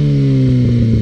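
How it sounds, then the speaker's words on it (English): A 2011 Kawasaki ZX6R fitted with a Two Brothers exhaust idles loudly and close, its deep steady rumble sagging in pitch and turning slightly uneven near the end of a brief moment. "This exhaust is so loud."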